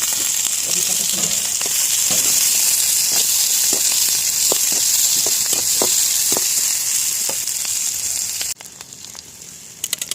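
Garlic and ginger frying in leftover oil, a constant loud sizzle with small pops and crackles, which quietens sharply near the end.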